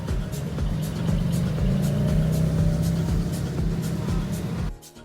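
An old Porsche Boxster accelerating at the Nürburgring, its engine note droning steadily and loudly with a rising tone, heard from inside or nearby, before it cuts off abruptly near the end.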